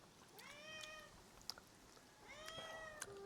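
A pet cat named Poochi meows twice, close and fairly faint, each call a drawn-out rising-falling mew, with a few soft clicks and a quiet room in between.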